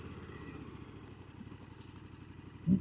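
A KTM Super Adventure S 1390 motorcycle idles after pulling up, a low steady engine rumble heard close and at moderate volume, with a brief louder burst near the end.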